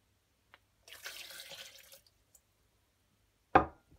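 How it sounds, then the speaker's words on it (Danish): Water poured into a blender holding oranges and mandarins for a smoothie, a short splashing pour of about a second in a quiet room, followed by a single sharp knock. "Nu putter vi vandet op i."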